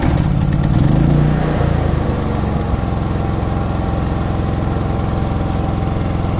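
A 4500 watt 120v dual fuel generator fires up with a brief rising start, then settles into a loud, steady, buzzing idle close by, with no one talking.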